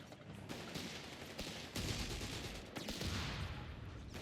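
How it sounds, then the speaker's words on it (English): Grenade launcher gunfire from a Panzer Pioneer unit in the real-time strategy game Company of Heroes 3, with rapid bursts and booming shots layered in a dense battlefield mix over several seconds. "Panzer Pioneer is opening fire with a grenade launcher."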